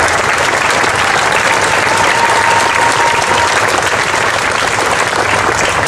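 A large crowd at a Colorado Democratic Senate unity rally applauds loudly and continuously, a dense, even wash of clapping with no speech over it.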